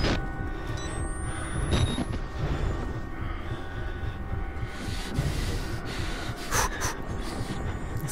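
Someone sniffing and breathing heavily in the horror game Outlast, snorting breaths coming in uneven bursts over a low, rumbling ambient drone, fairly faint, with no talk.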